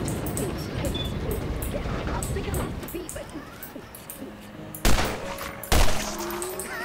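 Gunfire in the Borderlands video game: scattered shots crackle under ongoing game sounds, followed by two sharp, loud isolated bangs near the end, with someone talking through parts of it.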